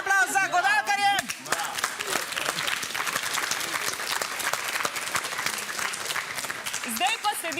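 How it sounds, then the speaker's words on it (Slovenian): A studio audience at a dance quiz show applauds the string players, dense sustained clapping after a brief spoken voice, with talking returning at the end. "še en aplavz za godalkarje"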